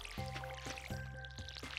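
Watering-can sound from the video game Stardew Valley as crops are watered, a soft run of gentle drips and splashy squishes repeating several times in quick succession, quiet and close.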